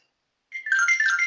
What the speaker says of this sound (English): Okay, we got a call coming in from California.